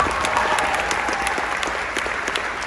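A school band audience applauds a graduating band senior at a 2022 Fox High School band seniors event, with dense, sustained clapping that stays loud throughout and tapers slightly toward the end.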